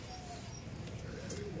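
Old-stock giribaz pigeons coo softly at a home loft, low murmuring calls under a constant background hum, faint and continuous.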